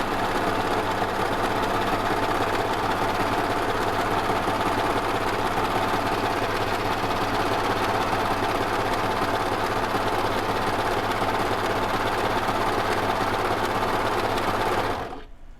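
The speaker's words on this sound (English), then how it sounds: "I've put the fabric in the machine and I'm going to let it run through the machine without pulling it" A serger overlocker runs continuously, sewing a lettuce edge hem around a circle of fabric, with a loud, even mechanical whir and rapid stitching buzz that holds steady for about fifteen seconds before stopping abruptly.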